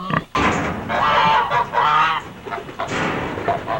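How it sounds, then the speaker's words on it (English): Geese and chickens honking and clucking loudly in a dense, continuous chorus as the flock is let out of its pen, with a short break near the start. "And letting the chickens and geese out."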